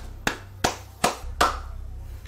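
Four sharp hand claps spaced roughly evenly, each a crisp close snap with a short ring-out, standing alone without any talk.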